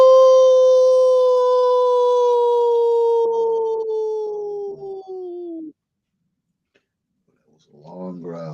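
A human voice imitates a wolf with one long, loud, sustained howl that slides gradually lower in pitch for several seconds before cutting off, followed by silence and then brief talking.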